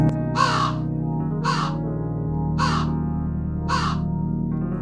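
Four harsh crow caws, evenly spaced about a second apart, loud and close over a steady background hum.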